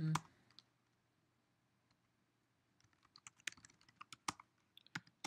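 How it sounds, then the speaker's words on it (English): Keys on a computer keyboard click in an uneven burst of typing after a quiet pause, close and fairly crisp, with no talking over it. "So when I type in 5, I get 5."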